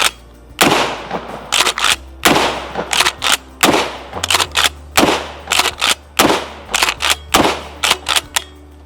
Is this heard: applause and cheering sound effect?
no